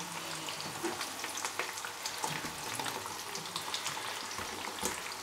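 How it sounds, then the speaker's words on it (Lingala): Onions, including a large whole white onion, fry in oil in a pan in a Congolese kitchen, a quiet steady crackling sizzle with scattered pops throughout and no speech. "natie matungulu na ngai na kati ya mafuta na ngai"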